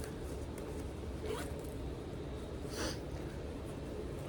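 A zipper pocket on an MZ Wallace bag is opened with a couple of short, soft rasping pulls over a steady background hiss, with no talking.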